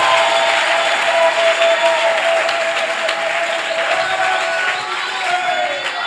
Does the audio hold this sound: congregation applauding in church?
yes